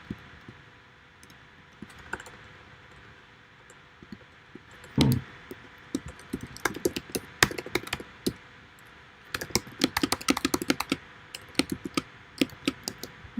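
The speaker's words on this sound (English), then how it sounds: "Actually, I cannot see what I'm typing." Someone types on a computer keyboard in irregular bursts of clicky keystrokes, sparse at first and then dense and rapid, close-up over a faint steady background hum, with no talking.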